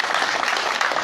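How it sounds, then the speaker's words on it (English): A brief burst of clapping from a crowd at a political gathering, dense and steady for about a second. "Yes, please clap for yourself."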